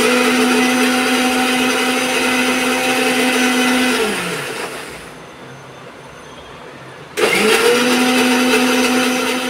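A blender whirs loudly while blending homemade mayonnaise made with boiled eggs, oil and sugar, its motor pitch dropping as it stops for a few seconds, then starting again abruptly at full speed.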